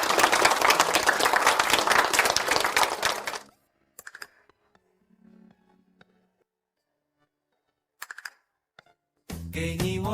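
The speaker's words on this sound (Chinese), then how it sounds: "让我们以热烈的掌声恭喜辛芷瑶同学！" A burst of dense audience applause for a student being congratulated fills the first few seconds, then stops, leaving near silence with a few faint knocks before voices start at the end.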